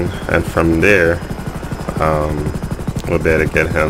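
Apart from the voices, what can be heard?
helicopter (Super Puma) in video game GTA 5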